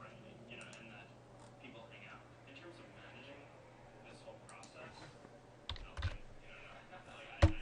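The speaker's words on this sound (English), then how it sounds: "I was typing too fast." Quick keystrokes on a computer keyboard clatter under a faint voice, with a few sharper clicks near the end as the typing speeds up.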